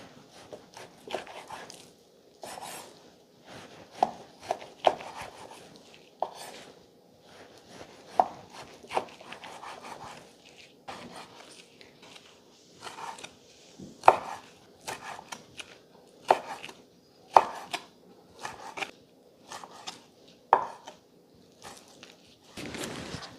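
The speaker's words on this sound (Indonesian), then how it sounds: "daging yang untuk bikin burger sebelum digiling ya, harus dipotong kecil-kecil dulu" Beef for burgers being chopped into small pieces with a knife before grinding, a steady run of sharp, close knife strikes on a cutting board with short pauses, irregular in rhythm, no talking.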